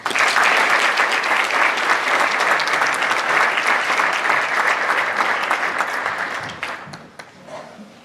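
A large audience at a high school awards night claps steadily and loudly for several seconds, then the applause fades out toward the end.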